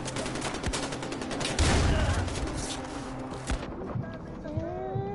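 Gunfire in the video game Far Cry 4 rattles in a dense, continuous fusillade of shots, loud and steady throughout, with a heavier burst near the middle; game voices and effects mix in underneath.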